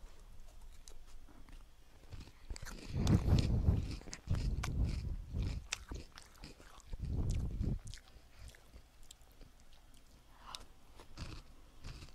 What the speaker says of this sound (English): I'm eating cereal.